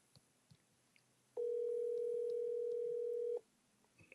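A telephone ringback tone plays while an outgoing call to a friend connects: one steady, clear electronic tone held for about two seconds, close and loud, with no voices over it.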